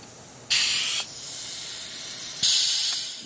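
A Powermatic Timesaver sander's pneumatic tension switch engages with a sharp burst of hissing compressed air, a short pause, then a longer leaking hiss followed by another loud blast of air, close and alone.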